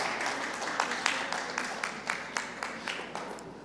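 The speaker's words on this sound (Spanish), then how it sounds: "Un aplauso a Ricardo." A church congregation applauds Ricardo, a smaller group clapping in a loose, rhythmic pattern of distinct hand claps at a moderate level from the room, steady throughout.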